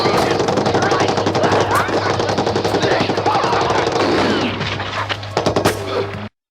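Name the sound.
machine gun fire in the film Gallipoli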